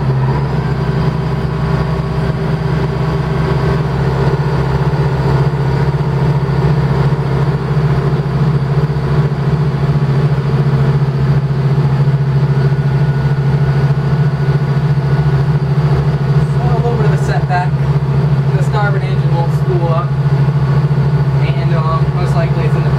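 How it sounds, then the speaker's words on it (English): Boat engines worked by old-style mechanical shift and throttle levers run in forward gear with a loud, steady, low idling drone throughout, while people talk over it near the end. "You can hear the engines."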